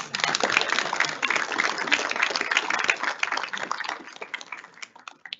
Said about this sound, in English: So a round of applause, even though he's not here.